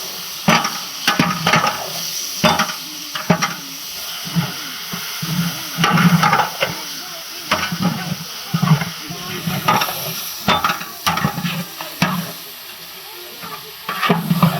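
Onions fry in a pot, a steady sizzle broken by repeated scraping stirs and clinks in an uneven rhythm, close and fairly loud, with no talking.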